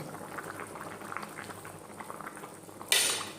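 Vegetable curry with hot water bubbles in a pot, a soft, continuous burble of boiling with small pops, ending in a sudden brief hiss.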